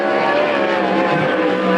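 A sprint car on a qualifying lap at Coos Bay Speedway in a Western Sprint Tour event, heard as a loud, sustained engine roar at steady high revs with no break.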